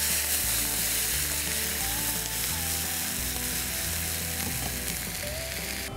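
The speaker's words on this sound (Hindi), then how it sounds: "और अब हम अपने पैन को थोड़ा डीग्लेज करेंगे विद दिस नाइस न्योकी" A pan of garlic sauce with red chili flakes and parsley sizzles and hisses steadily as starchy gnocchi cooking water is poured in to deglaze it, a loud continuous frying crackle with no talking.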